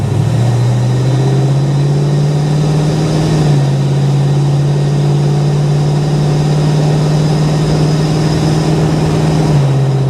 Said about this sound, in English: She shifts crisp. Those are smooth, crisp shifts.